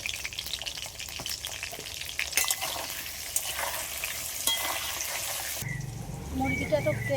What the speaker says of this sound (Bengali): এবার মাংসের জন্য আলু ভেজে নেব।